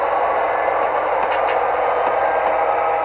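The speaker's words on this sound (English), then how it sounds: "with a heavier train, you'll go ahead and hear the prime mover notch up" A diesel locomotive prime mover through a Tsunami2 sound decoder, holding a steady engine drone with a couple of brief hissing bursts midway, continuous and fairly loud with no talk.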